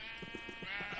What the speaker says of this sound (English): Little naked baby sheep.